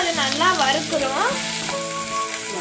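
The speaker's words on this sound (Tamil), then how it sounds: "வெட்டி வச்ச வெங்காயத்தை ஆட் பண்றோம். அப்புறமா அது நல்லா வறுக்கிறோம்." Chopped onions frying in a pan while cooking fried momo, a continuous close crackling sizzle with stirring scrapes.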